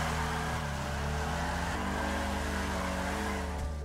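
Declasse Tulip muscle car in GTA 5 Online, its engine droning loudly and steadily, with a low rumble whose pitch shifts slightly as it holds speed, heard alone.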